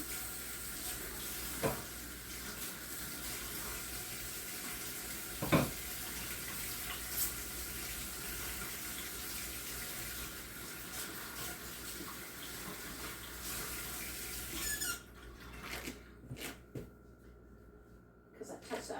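A kitchen tap runs steadily while hands are washed, a continuous broadband water hiss that lasts most of the time and cuts off near the end, with a voice speaking briefly over it.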